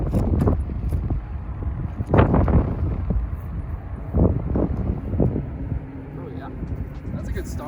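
Cold wind blows across an outdoor course at Seneca Creek State Park, rumbling and buffeting the microphone in uneven gusts while a person talks over it.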